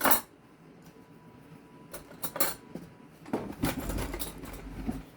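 Metal kitchen utensils clink and rattle in short scattered bursts while a peach cobbler is being made, quiet and close, with a low hum of a heating oven underneath.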